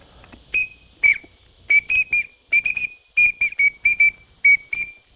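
A series of short, high whistled notes from a Primos teal duck call, blown in a broken, uneven rhythm with slight pitch changes, close and clear.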